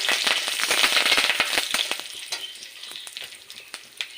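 Black mustard seeds, cumin and curry leaves temper in hot oil with rapid crackling pops over a bright sizzle, busy at first and then thinning to sparse, fainter pops.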